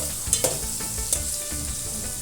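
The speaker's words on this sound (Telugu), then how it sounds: "వేడెక్కే నూనెలోనే ఉల్లిపాయలు వేసుకుంటున్నాము. బాగా కలుపుకుంటున్నాము." Onions frying in hot oil and being stirred, a steady close sizzle with a few sharp scraping clicks of the spoon against the pan, no voices.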